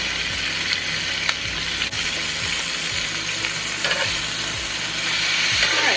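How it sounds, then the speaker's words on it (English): Brussels sprouts and radishes sizzle steadily in a hot pan, a loud, close, continuous frying hiss with occasional light pops and clinks, no voices. "So this pan is hot. I'm going to go ahead and add the Brussels sprouts in and the radishes."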